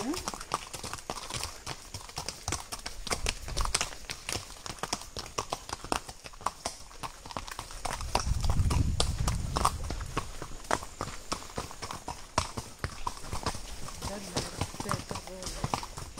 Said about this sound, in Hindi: जो घोड़ा मैं अकेले चला रहा हूँ